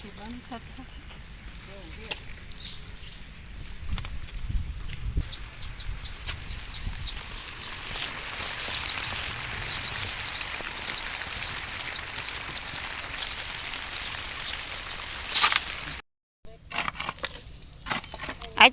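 Light, steady rain falls in a Gujarati village, a soft continuous patter across the whole stretch with a brief dropout near the end, while people talk intermittently over it.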